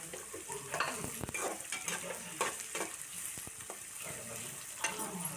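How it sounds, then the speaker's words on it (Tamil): Onions and curry leaves sauté in a pan for an egg dish with Kalan gravy: a steady close sizzle broken by scraping stirs and occasional spoon clinks against the pan, with no voices. "இது கருவேப்பிலையும் போட்டு நல்லா வதக்கி"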